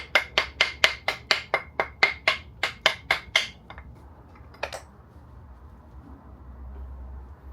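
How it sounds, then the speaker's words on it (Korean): A urethane mallet taps a cover into place on a high-speed cut-off saw about a dozen times in a quick, even rhythm, crisp and close, followed by a few lighter taps and then quiet. "동일하게 우레탄 망치로 톡톡톡 치면서 자리를 잡아줘야 돼요"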